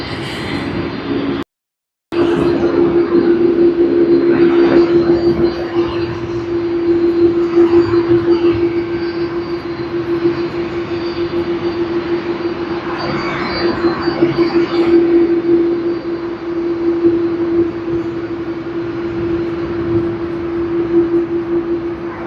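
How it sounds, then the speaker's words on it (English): Airbus A330 jet engines at Sydney Airport, a loud continuous drone with a steady tonal whine that swells and eases over the stretch, after a brief cut near the start. "the engine sounds that you hear is of the Airbus A330"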